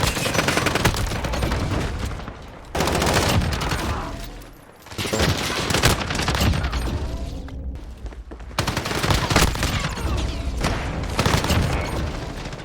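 Call of Duty Modern Warfare gunfire hammers loudly in close bursts, including shotgun blasts and rapid fire, separated by brief lulls, with no voice over it.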